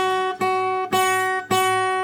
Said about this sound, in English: That extra vibration and back buzz is the other part of the string making noise.